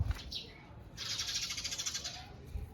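A bird gives a rapid, trilling chatter of repeated high notes near a house, following a shorter call, in an otherwise quiet outdoor setting.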